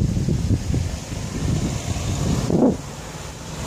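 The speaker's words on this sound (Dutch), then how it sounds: "Zo, wat een harde wind." Gusty wind roars and buffets the microphone, with a stronger rumbling gust near the end.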